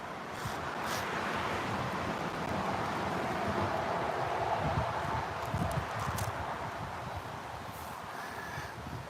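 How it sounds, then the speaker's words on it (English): Moderate wind blowing steadily outdoors, a broad rushing noise with gusty rumble and faint rustling throughout. "It's windy out here, man."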